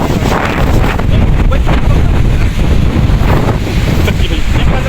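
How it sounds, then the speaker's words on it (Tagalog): Strong wind buffets the microphone while riding a bike through Abu Dhabi city, a loud, constant low rumble with gusty swells across the whole stretch and no clear speech. "Malakas yung hangin."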